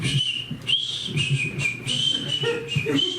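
A high, steady whistled tone holds and wavers over a low murmuring background, a voice imitating a whistle for several seconds.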